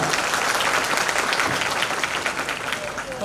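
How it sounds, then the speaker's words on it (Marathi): An audience at a school annual programme applauds the teachers with loud, dense, sustained clapping that fills the whole stretch and eases slightly toward the end. "त्याच्यासाठी अजून एकदा जोरदार टाळ्या वाजवा"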